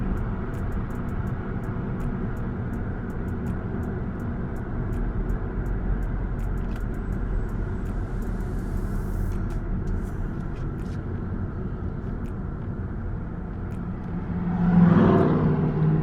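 A 2007 Mazda 3 drives along as its failing transmission stays in fourth gear while slowing, producing a steady low engine and road rumble inside the cabin that swells briefly near the end.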